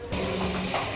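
Warm tap water runs steadily and close by during washing, making a continuous rushing splash.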